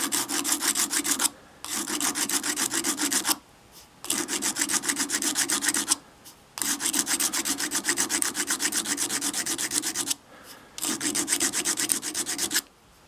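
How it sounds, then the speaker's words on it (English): Sandpaper wrapped on a small dowel stick rubbing a screwdriver blade, close and steady: four long bursts of fast back-and-forth scraping, separated by short pauses. "I'm going to take a smaller dowel stick, same piece of sandpaper. I'm going to try to blend that in a little bit."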